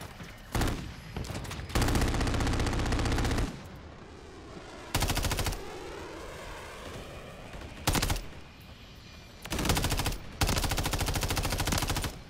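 Automatic rifle fire, an MTZ 556 build in Modern Warfare 3, rattles out in several loud, close bursts with brief gaps between them.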